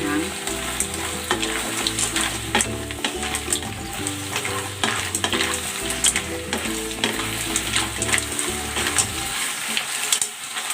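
Mussels frying in a pan with garlic and oyster sauce, a loud, steady sizzle broken by the scrape and clatter of a utensil stirring, with no voices.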